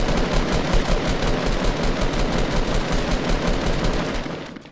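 Rapid automatic gunfire in Call of Duty, a dense, sustained burst of shots hammering close and loud for several seconds before cutting off abruptly at the end.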